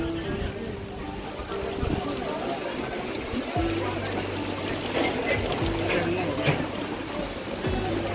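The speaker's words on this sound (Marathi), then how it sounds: "पाऊस भरपूर पडतो बघा" Heavy rain pours steadily at Calangute Beach, Goa, a dense continuous hiss throughout, with an engine hum running underneath.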